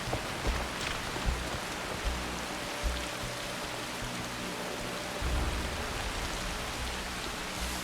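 Steady rain pours in a video game world set among feudal lords, a dense even hiss of drops on surfaces with a few faint thuds, continuous and moderately loud.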